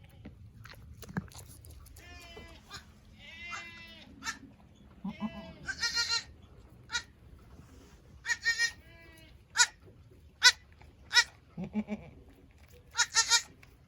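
Goats on a farm bleating repeatedly at close range, sharp nasal cries in irregular bursts, some overlapping, over a low background rumble and occasional chewing sounds.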